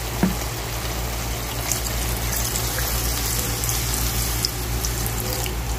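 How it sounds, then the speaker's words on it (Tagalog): Water runs steadily into a cooking pot for chicken tinola soup, a continuous close, even splashing stream lasting several seconds with no talk. "Tapos lalagyan natin siya ng tubig para"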